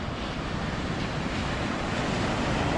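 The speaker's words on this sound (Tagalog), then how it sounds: "laki ng alon" Continuous broadband rush of large ocean waves and wind at Bucana, steady and loud throughout, with no distinct breaks or speech.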